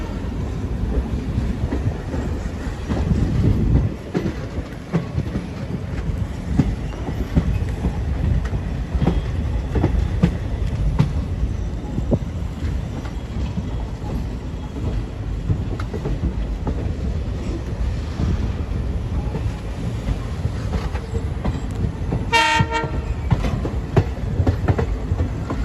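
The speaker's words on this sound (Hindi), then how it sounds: "ये वाली ट्रेन लग रही लगता है, भावनगर रोका है ये अभी" A daily passenger train running near Bhavnagar on the Palitana–Bhavnagar line gives a continuous loud rumble with rattling and clatter from on board, and a short tonal horn-like blast near the end.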